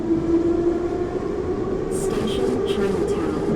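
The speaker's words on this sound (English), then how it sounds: "I'll catch the last subway train and get to the office on my own." Subway train in the visual novel game The Hungry Town, a continuous rumbling rail roar with a steady tone running through it, close and loud, with brief hissing bursts near the end, as if doors or brakes are releasing air.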